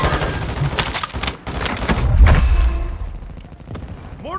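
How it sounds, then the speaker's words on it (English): Mortar strikes land in a Warzone 2.0 Resurgence match: a rapid, loud run of booming impacts and gunfire-like cracks with a deep thump in the middle, all layered over constant game noise. "Mortars coming early. No, another one."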